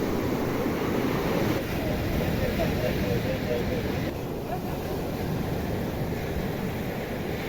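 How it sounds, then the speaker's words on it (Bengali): A motor fishing boat out at sea off Kerala gives a loud, steady wash of engine drone and rushing water that runs unbroken through the whole stretch. "নৌকাতে মোটর লাগানো হবে মোটর লাগিয়ে দিয়ে সমুদ্রের মাঝেতে যাবে"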